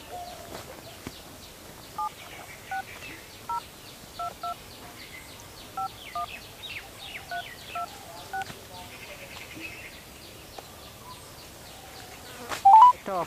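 Telephone keypad tones beep one by one as a number is dialed on a phone, short evenly spaced pairs of clear pitched blips over a quiet background, ending with a brief louder burst near the close.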